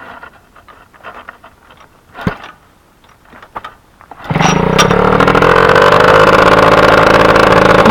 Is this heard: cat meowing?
no